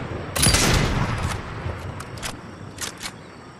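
Video game gunfire cracks out in a loud initial burst, followed by several quieter, scattered shots spaced over a few seconds.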